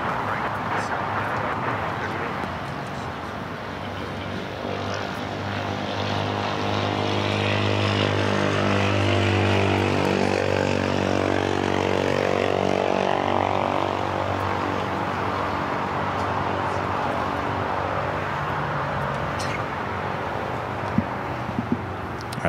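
A jet airliner takes off at Los Angeles International Airport, a loud, steady engine roar that swells and holds for over twenty seconds, with a faint shift in pitch as it climbs away.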